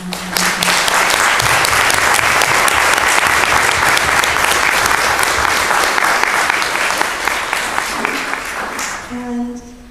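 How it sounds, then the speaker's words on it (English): A congregation at a church service breaks into sustained, loud applause honoring mothers; the dense clapping holds steady for several seconds, then thins and fades as a voice begins speaking near the end. "with a round of applause"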